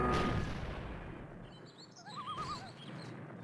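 A cannon fires in Star Fox Adventures: a loud booming blast that decays over a second or so, followed by faint warbling, whistling tones and soft rumbling.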